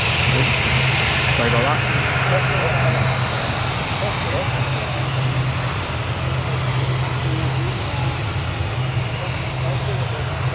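Airliner engines roar steadily at Newcastle Airport, a broad continuous rumble with a low hum that holds for the whole stretch, with a person speaking briefly over it.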